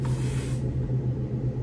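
A can of hairspray sprayed onto hair, one short hissing burst lasting about half a second, then a low background rumble.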